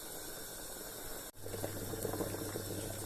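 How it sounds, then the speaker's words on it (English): A pot of egusi soup boils hard on the stove, a dense steady bubbling and hissing that drops out for an instant, then returns a little fuller and louder. "I have scooped all the egusi in it now, and it's all boiling"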